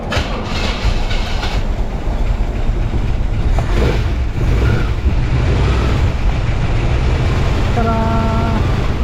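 A car engine runs loud and steady after repair in an auto shop, a continuous rumbling roar close by with a voice talking briefly over it.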